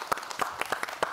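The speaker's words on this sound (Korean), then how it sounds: "큰 박수로 환영해 주시기 바랍니다." An audience claps to welcome a speaker at a public lecture, giving a short run of scattered, moderately faint handclaps.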